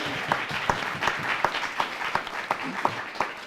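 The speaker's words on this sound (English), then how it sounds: "A round of applause for everybody." Thin, scattered applause from a small audience at a university gathering, individual claps standing out in an uneven rhythm over quiet room noise.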